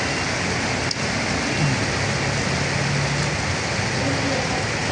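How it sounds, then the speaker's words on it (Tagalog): Heavy rain pours steadily onto a street on Fugoso Street in Santa Cruz, Manila, a dense, constant hiss close by with no pauses, joined by a faint passing vehicle. "Lumakas ang ulan."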